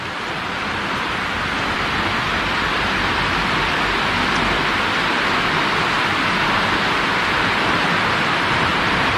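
Water spills over the newly built spillway of the Mae Chang Khao reservoir in Thailand, a loud, continuous broadband rush without pause or voices.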